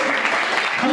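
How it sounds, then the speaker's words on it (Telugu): A church congregation claps in praise during a Sunday worship service in Ghanpur, Siddipet, a brief burst of many hands with voices mixed in underneath. "చప్పట్లు కొట్టి స్తోత్రం చెప్పండి దేవునికి."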